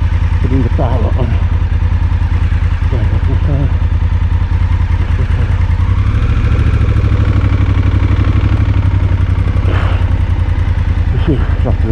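A Honda Africa Twin motorcycle engine runs with a steady, loud low rumble and clattering idle throughout, close by, while a person talks over it.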